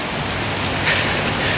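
Heavy rain pours in Odaiba, Tokyo, a dense, even hiss of downpour close around with no voices and a slight surge partway through.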